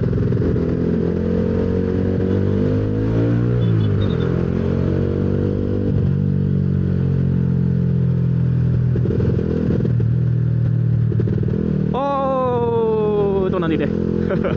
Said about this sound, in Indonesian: Ini suara knalpotnya enak sih sebenarnya.